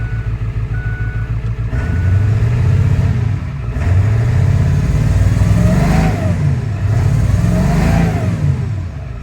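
A Ford F250 engine runs roughly just after a cold start on a cool 60-degree day, with a loud steady rumble that swells into two throttle-free surges and wavers without settling. No voices are heard.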